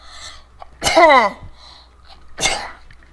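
A person sneezes loudly and close up: one sharp, explosive burst, then a second shorter blast a moment later, with a low background hum between them.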